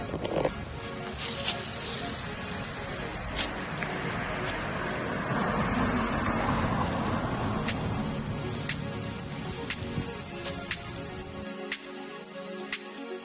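Water sprays steadily from a hose nozzle in a soft, rain-like hiss, continuous for several seconds before tapering off at the end.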